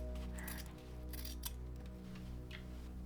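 Scissors cutting diagonally through a fabric rectangle, a few faint close snips and slicing crunches over a steady low background hum, no voices.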